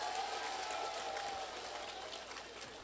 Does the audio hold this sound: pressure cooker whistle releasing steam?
no